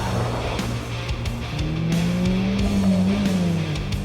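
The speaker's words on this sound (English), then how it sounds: "the engine feels determined, but very slow" A cheap BMW sports car on a race track, its engine droning steadily as it accelerates, the pitch climbing through the gears with brief gear-change dips and some tire noise.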